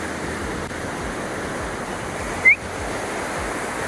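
Steady ocean surf breaking on a Devon beach at Ilfracombe, a continuous broad wash of waves with one brief squeak-like sound partway through.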